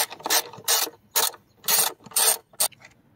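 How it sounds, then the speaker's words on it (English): An 8mm socket wrench with an extension ratchets out a rusted air box screw on a 2.4L Honda CR-V, giving six sharp bursts of loud clicking separated by brief pauses. "we got our 8mm here socket wrench with an extension, and we should be able to pop these out now with ease"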